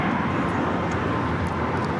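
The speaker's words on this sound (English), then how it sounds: "This is Alaska Airlines 1219 taking off to Seattle on the MAX 9" An Alaska Airlines Boeing 737 MAX 9 takes off from LAX with a loud, steady jet engine roar filling the whole stretch, with no voices heard.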